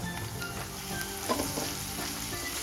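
Chopped onion and finely minced green chillies fry in a pan for Kolhapuri golma, giving a continuous close sizzle with occasional stirring scrapes and no voices.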